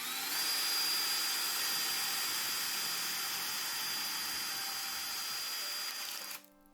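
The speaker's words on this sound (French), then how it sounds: "je vais utiliser une perceuse avec une mèche à bois de diamètre 10 mm pour faire des trous au centre de ces pastilles adhésives rondes" A power drill with a 10 mm wood bit bores through round adhesive pads on thick cardboard, whining at one steady high pitch for about six seconds before spinning down and stopping.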